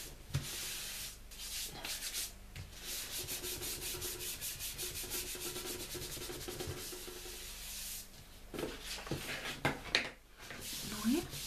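Paper rubbed hard by hand while working on an altered book gives continuous scratchy, rhythmic strokes close up, growing more uneven with a few knocks near the end.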